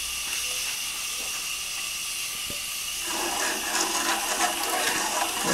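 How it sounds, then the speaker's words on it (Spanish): Chunks of pumpkin (ahuyama) simmer in a pot of water with sugar, giving a steady watery hiss and seething that grows louder and busier partway through, with no talking. "Vamos a colocar a cocinar el zapallo."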